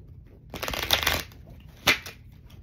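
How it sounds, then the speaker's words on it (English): Stiff tarot cards shuffled by hand: a riffling burst of about a second, then a quick sharp snap of the deck, close and clear with no talking. "These cards are so stiff."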